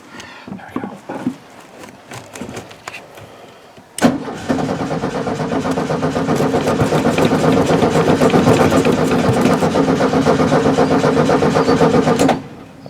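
A 1970 VW Beetle engine, with a few scattered knocks and clicks before it cranks and catches abruptly, then a loud, steady, rough air-cooled idle holding for about eight seconds before cutting off suddenly.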